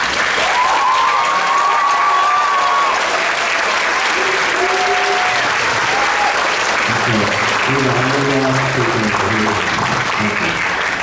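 Applause for a band conductor, loud and sustained from a large audience, with a voice and some brief tones faintly audible beneath the clapping.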